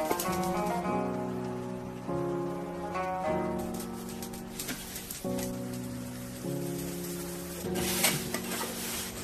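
Dried pork skin being stir-fried in a wok, continuous crackling sizzle and scraping stirs under a steady tonal hum from the stove or extraction fan.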